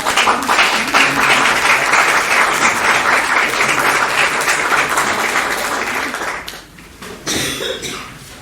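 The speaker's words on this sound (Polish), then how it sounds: "Brawa, drodzy Państwo!" Audience applause at a panel debate on education, a dense steady patter of many hands filling the room, then thinning and fading out near the end, with a cough or throat-clearing and a voice briefly emerging.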